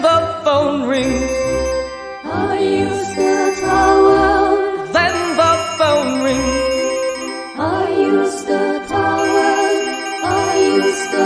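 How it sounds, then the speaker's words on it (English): A cartoon telephone in a Pocoyo episode rings in bright, jingling electronic bursts, repeating in regular phrases separated by short gaps, loud and alone. "then the phone rings."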